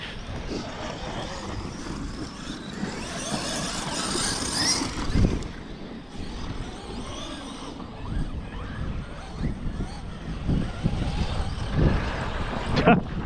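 RC baja truck spinning its wheels in sand, with a steady whining motor hum and scuffing churn kept up throughout, while a voice speaks over it.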